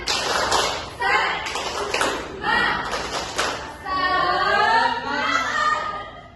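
A group of children claps a rhythmic 'tepuk semangat' chant in a classroom, sharp clap bursts in a steady pattern giving way to high, wavering voices chanting together near the end.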